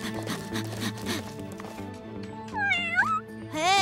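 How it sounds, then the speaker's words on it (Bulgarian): Cartoon kitten meows in a high, wavering voice, several rising and falling cries near the end, over background music and an earlier stretch of talk. "това ма е едно от котенцата на кмет Хъмдингър"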